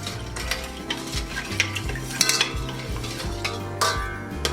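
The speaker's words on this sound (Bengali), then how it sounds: "এখন আমি এটা মিক্স করে নেব।" Orange peel being stirred into turkey seasoning in a bowl, with repeated scraping and clinking of a utensil in an uneven rhythm, close and fairly quiet, with no talking.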